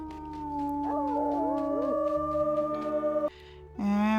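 A wolf's howl in the game WolfQuest, sustained and wavering, carried over a steady forest ambience with layered tonal background music, then breaking off before a brief closing chord.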